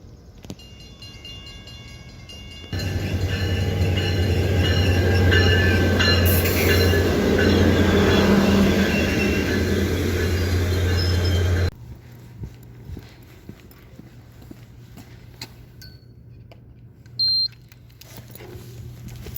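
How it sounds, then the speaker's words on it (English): A train runs along the rails with a loud, steady rumble and a low hum that cuts off abruptly, followed by quieter ambient sounds and a few brief clanks. "so I'm walking to the train now"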